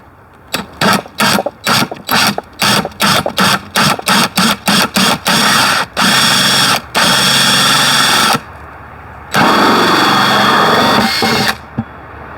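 A power drill boring through a plastic bucket whirs in rapid start-stop bursts, then runs in longer continuous stretches with brief pauses, loud and close.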